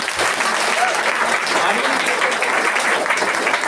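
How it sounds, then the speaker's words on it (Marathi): A church congregation claps loudly and steadily for Jesus at a prayer service, a thick continuous applause with a voice briefly heard over it. "तर आपण इथे अजून एकदा जोरदार येशूसाठी टाळ्या वाजू."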